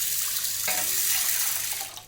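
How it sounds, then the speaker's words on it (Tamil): Water pours steadily from a tap into a pan of chana dal, a continuous close splashing flow that begins abruptly and runs on without talk. "1 சொம்பு அளவுக்கு தண்ணி ஊற்றிக்க போகிறேன்."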